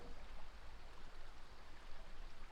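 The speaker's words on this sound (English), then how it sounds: "The creek. It is an interesting spot. So fluid and so cold." Cold winter creek flowing steadily, a continuous broadband rush of water heard alone at low level.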